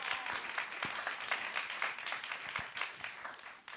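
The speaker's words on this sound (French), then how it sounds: "On peut l'applaudir bien fort, mesdames," An audience at a cultural quiz night claps for the winner, a moderately loud burst of applause with distinct individual claps that carries on steadily and thins slightly toward the end.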